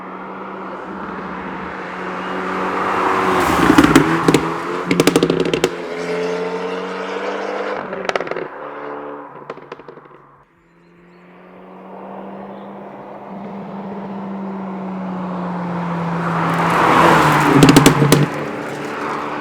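An Abarth 124 Spider sports car engine with a pops-and-bangs tune revs and rumbles up close, with sharp crackling pops and bangs bursting out as the throttle lifts, rising again toward the end.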